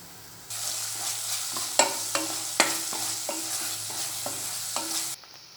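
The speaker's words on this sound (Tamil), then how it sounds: "இப்போ இஞ்சி பூண்டு விழுது ஆட் பண்ணிக்கலாம்." Ginger garlic paste frying in hot oil with onions for vegetable biryani, a steady close sizzle broken by repeated sharp scrapes and taps of a spoon stirring the pan, then cutting off.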